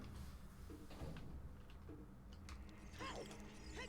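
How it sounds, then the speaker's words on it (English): A door opening in The Legend of Zelda: Ocarina of Time, heard as a creaking, grinding mechanical slide with clanks, at moderate loudness and with no talk. "And back through the door"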